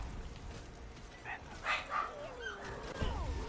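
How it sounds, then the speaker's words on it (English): Dogs in a zombies video game give a few faint, distant barks and yips over low game background noise. "What are they even barking like at?"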